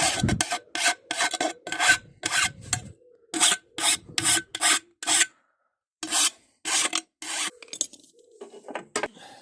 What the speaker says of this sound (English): it's always a good idea just to take these little sharp edges off, minimise any risk of putting a little tear in your belt